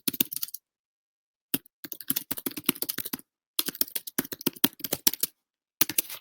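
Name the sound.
typing a question on a computer keyboard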